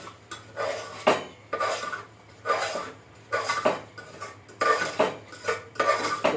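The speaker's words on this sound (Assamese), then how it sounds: "এতিয়া মই ড্ৰাই ফ্ৰুটছখিনি আকৌ ফ্ৰাই কৰিম।" Dry fruits being stirred while frying in a pan, a spoon scraping against the metal in a steady rhythm of brisk, close strokes, with no talking.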